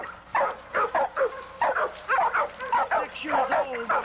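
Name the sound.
pit bull dog barking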